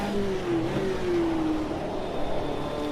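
Engine of a 1965 Lotus Type 38 race car in a video game on a bumpy stretch of track, a loud, close engine note that climbs and falls as the gears change.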